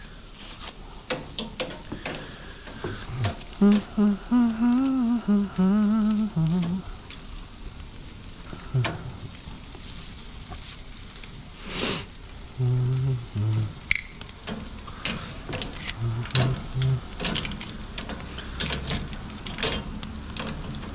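Carne asada steak and onions sizzle on a grill in Tokyo with a continuous, crackling hiss. A person talks intermittently over it, and there are occasional clanks of utensils.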